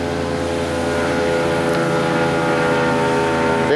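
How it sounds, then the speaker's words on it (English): A motorboat with a Yamaha outboard engine roars at full throttle, a loud sustained high-pitched whine with steady rumbling underneath, no voices. "running her wide open right there"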